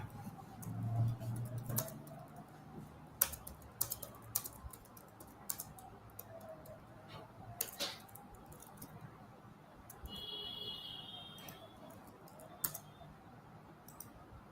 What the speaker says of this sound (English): So I'm just typing a poll for you.